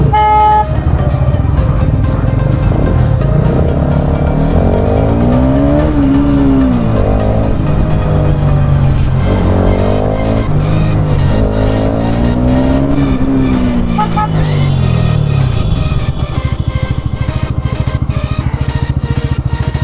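A group of five sport motorcycles, including Yamaha R15 models, a KTM RC125, a Yamaha FZS and an RS200, rev and accelerate together in a loud, continuous engine roar with rising and falling pitch, close by, with horn toots mixed in.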